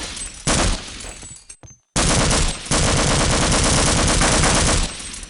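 Automatic weapon fire in Half-Life: Opposing Force, long loud rapid bursts broken by a brief silent gap, continuous machine-gun rattle.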